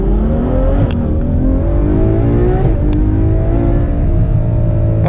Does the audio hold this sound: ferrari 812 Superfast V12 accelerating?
yes